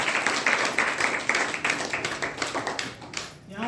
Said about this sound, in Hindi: आप लोग ताली बजा सकते हैं।